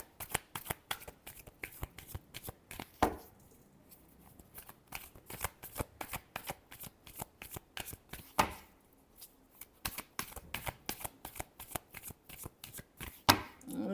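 Tarot cards are shuffled repeatedly in quick rhythmic riffles and slaps, close and crisp, with brief pauses between bursts.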